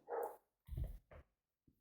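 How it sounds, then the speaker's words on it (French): A dog barks indoors: two short, sharp barks close together, then a faint yelp after a pause. Everything else is quiet. "Excusez-moi pour le chien."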